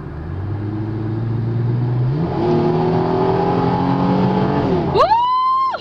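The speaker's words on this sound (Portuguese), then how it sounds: "Esse é o som do nosso novo carro." A Ford Mustang with a 4.0 V6 engine revs up close, climbing in steps from a low idle-like drone to a higher held pitch. It ends with a sharp, quick blip that rises and falls.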